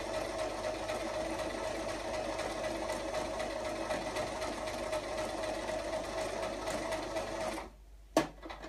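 Sewing machine stitching up a plush toy, running in one steady, continuous close-up whir that cuts off near the end, followed by a single sharp click.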